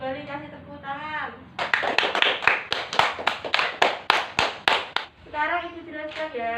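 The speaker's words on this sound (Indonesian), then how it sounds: "kasih tepuk tangan" Classroom of children clapping in applause, a quick run of sharp, loud claps lasting a few seconds, with a voice speaking just before and just after.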